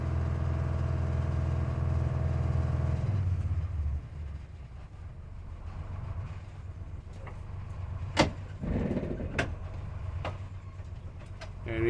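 An old bus sets off on a test drive: a loud, low engine rumble for a few seconds, then a quieter running drone with scattered clunks and knocks.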